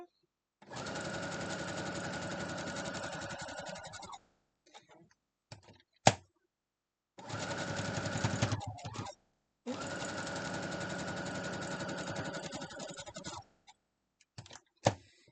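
Close up, a sewing machine stitches a quilt block row in three sustained bursts of rapid mechanical whirring, each several seconds long, separated by short pauses with small clicks and handling sounds.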